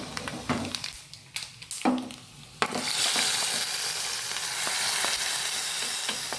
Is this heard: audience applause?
no